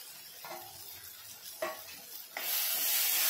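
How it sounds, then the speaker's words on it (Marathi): Onion-tomato vegetable curry in oil sizzles as a spoon stirs it after coriander goes in. A few scraping stirs sound over the frying, and the sizzle swells louder toward the end. "कोथिंबीर टाकली की जरा हलवायचं आहे"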